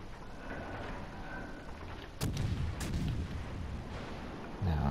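British destroyer HMS Wakeful firing its guns in World of Warships Legends, two heavy booming salvos a little over half a second apart, followed by another low blast at the end over a constant engine and sea rumble.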